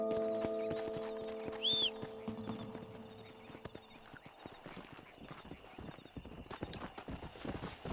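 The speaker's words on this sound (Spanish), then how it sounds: "Caballo de guerra." Horse hooves clip-clop in the Western video game Red Dead Redemption, with a short whinny near the start and steady hoofbeats continuing over a faint background with game music tones.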